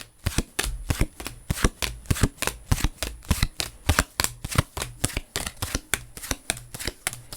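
Tarot cards are shuffled in a quick, steady run of crisp riffling bursts, close and clear, with no voices over them.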